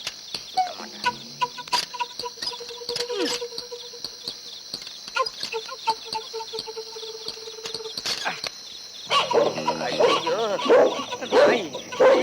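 A dog barks in a Tamil comedy film scene, several sharp barks spread over the stretch among other animal-like calls and sound effects, fairly close, with excited voices heard over and between them.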